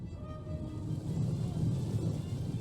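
Rain and rolling thunder on a battlefield in Total War Rome 2, a steady heavy downpour hiss with a low rumble that swells partway through. No voices.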